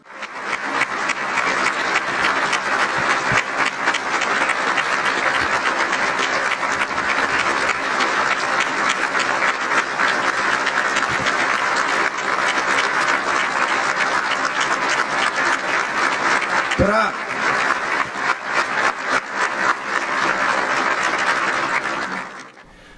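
Sustained applause from an audience after a speech defending democracy at a formal business gathering, dense and steady clapping throughout, loud and continuous before trailing off at the end.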